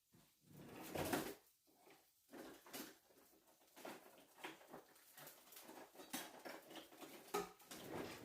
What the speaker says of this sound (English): We'll just stir this rice until it's a nice golden brown.